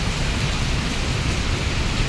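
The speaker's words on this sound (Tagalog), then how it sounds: "Basa na ako sa ulan." A hard downpour roars without a break, a thick uniform wash of noise with a deep rumbling base, no voices over it.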